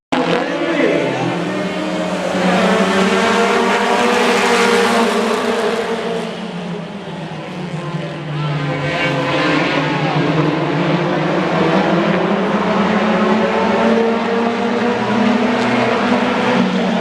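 Race cars compete on the Acres track at a night race, their loud engines roaring and sweeping up and down in pitch as they pass, close and continuous for the whole stretch.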